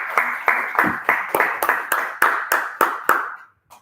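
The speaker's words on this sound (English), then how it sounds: "And ladies and gentlemen, please give big applause to Rani." An audience at a Toastmasters speaking event in a hotel claps in a brief round of applause, about a dozen sharp, evenly spaced bursts of clapping that stop abruptly, with no talk.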